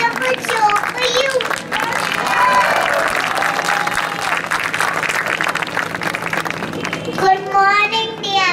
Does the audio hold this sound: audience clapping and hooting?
yes